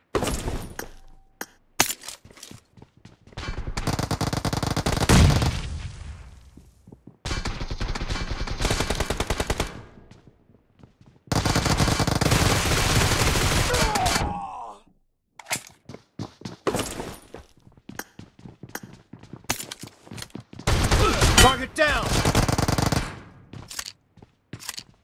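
Bursts of automatic gunfire and single shots crack out in a video game team match, coming in several loud, dense volleys separated by brief gaps and scattered lighter pops.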